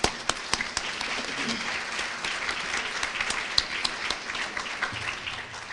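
An audience at an award luncheon breaks into applause, a steady patter of many hands clapping across the whole stretch, with a few sharper individual claps standing out.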